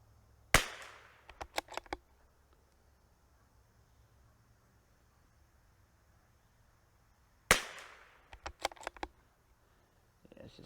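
A Tikka T1x MTR rifle in .22LR fires two sharp, distinct shots about seven seconds apart. Each report is followed by a quick patter of clicks and small rattles, with quiet stretches between the shots.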